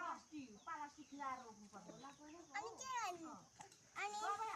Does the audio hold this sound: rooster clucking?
yes